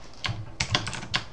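Someone types on a computer keyboard while setting up encrypted home internet, producing a few close, crisp key clicks in a short uneven burst with no talking.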